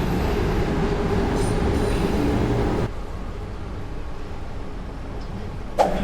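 MRT metro train at Silom station in Bangkok, a loud, steady rumble of rolling carriages with a faint wheel squeal, easing to a softer hum partway through, then a brief high squeak near the end.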